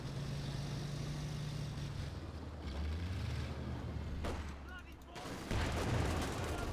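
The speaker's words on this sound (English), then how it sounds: "Being bombarded here by the Churchill tank" Churchill infantry tank bombardment in Company of Heroes 2, with a steady rumble of battle, repeated heavy blasts and gunfire, a low engine drone through the first few seconds, and a louder impact near the end.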